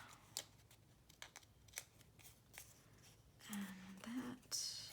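Faint snips of scissors trimming paper for a decorative craft piece, a few soft crisp cuts scattered among light rustling, with a louder stretch of handling near the end.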